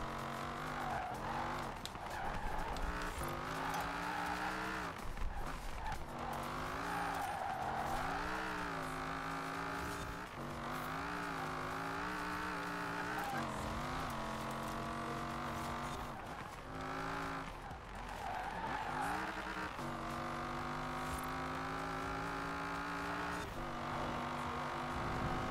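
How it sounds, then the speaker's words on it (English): A car engine roars steadily while driving in the racing video game Forza Horizon 4, its pitch rising and falling through gear changes and revs, loud and continuous with no talk over it. "This car does not even sound like it should."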